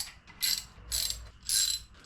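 A ratchet tightens the main cap bolts on an LS engine in three quick, close bursts of rapid clicking, separated by short pauses.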